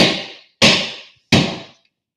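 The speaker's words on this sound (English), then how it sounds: "I've been smacking against this table for this demonstration for ages now" A metal-base lawn sprinkler is smacked hard against a table three times in steady succession. Each blow is a loud, close, sharp hammer-like strike whose ringing decays quickly, with no talk.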